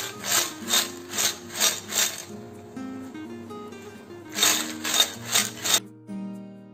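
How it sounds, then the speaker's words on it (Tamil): Nacho chips tossed with seasoning in a bowl, making rhythmic bursts of dry rustling and scraping, several quick shakes in a row, a pause, then a second round of tosses, fairly close with no talking. "இப்ப bowl ஜென்டிலா டாஸ் பண்ணி சீசனிங் நல்லா கூட்டற மாதிரி mix பண்ணி விட்டுறலாம்"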